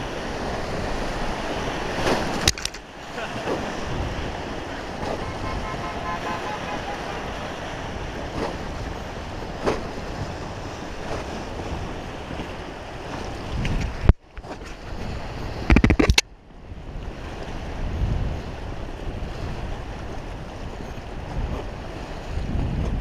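A whitewater raft crashes through rapids on a Montana river, with loud rushing and splashing water and heavy wind buffeting across the microphone, broken by a few brief sharp gaps.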